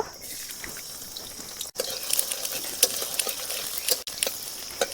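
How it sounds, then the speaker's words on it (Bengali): Chopped garlic sizzles in hot white oil, a steady close hiss with light crackles and pops, briefly interrupted twice by sharp dropouts. "অল্প সাদা তেল দিয়ে দেব। তেলের মধ্যে রসুন কুচি দিয়ে দেব।"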